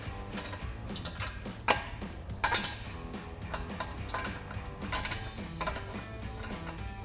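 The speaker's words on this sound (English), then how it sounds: "I'm just going to grab a 15mm socket, just to twist our bolt" Ratchet clicks from a 15mm socket turning a bolt on a Jeep Gladiator XRS Overland Xtreme roof rack, a run of close metallic ticks with a few sharper clanks, alone with no talk.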